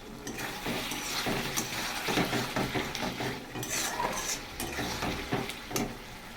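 Katla fish curry sautéed in a pan, heard as a close, continuous busy scraping and stirring with soft sizzling and occasional clinks of a metal utensil against the cookware, no voices.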